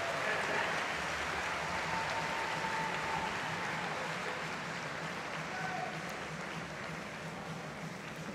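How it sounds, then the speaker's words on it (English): Full stadium crowd at a tennis exhibition night applauds doubles players, a faint, distant wash of continuous clapping that slowly fades. "a big round of applause to the four doubles players"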